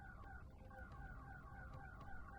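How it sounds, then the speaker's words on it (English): A warbling electronic alarm sounds aboard a spaceship in the game Breach Lockdown, its rising and falling tone repeating steadily and fairly loud throughout, with no talking. "Uh-oh. Alarm's going off. We are in trouble."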